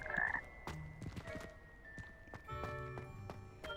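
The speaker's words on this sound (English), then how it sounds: "That frog just ate me." Frog croaks in the game Hogwarts Legacy, a few irregular throaty calls mixed with thuds and soft tonal game effects, moderately close over a low background, no talking.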